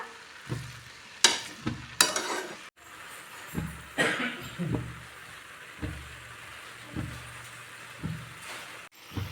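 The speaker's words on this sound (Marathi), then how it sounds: "आता बघा मी हे पाच मिनटं पाच ते दहा मिनटं हे हलवतच होती खाली चिटकू नये म्हणून" Carrot halwa being stirred in a pan, a spoon scraping and knocking against the metal in repeated uneven strokes over a faint background, with no talking.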